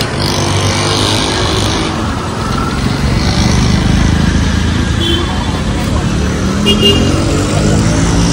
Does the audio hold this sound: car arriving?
yes